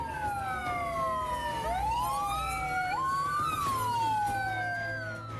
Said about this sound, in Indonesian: Sepuluh unit mobil pemadam kebakaran datang ke lokasi.